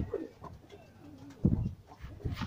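Domestic pigeons released from a loft after a month of confinement coo in soft, low, rolling calls, several overlapping phrases close by in uneven bursts.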